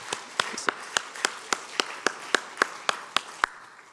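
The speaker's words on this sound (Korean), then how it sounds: "우리 자녀들을 위해서 힘찬 격려의 박수 해주시면 고맙겠습니다" Steady, evenly spaced claps, about thirteen in a slow rhythm, faint and somewhat distant, as a church congregation at an autumn early-morning prayer service applauds the children.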